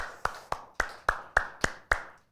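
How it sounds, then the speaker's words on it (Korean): Church lecture audience clapping together: seven sharp, evenly spaced claps in a steady rhythm, moderately close and clear with no talking over them. "박수 한번 하겠습니다"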